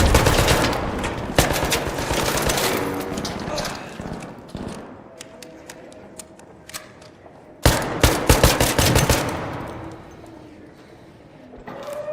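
Automatic gunfire from the video game Arc Raiders, with rapid bursts that come and go over a busy game soundscape, including a loud sustained volley near the end. People talk through the shooting.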